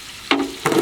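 Chopped onions hit hot oil with garlic in a kitchen pan, giving two short, close bursts of sizzling with a quiet gap between them and no talking.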